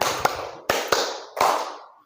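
Five crisp, close hand claps in an uneven rhythm, two pairs and then a final single clap, performed as a group clapping exercise, each clap fading quickly into a quiet room.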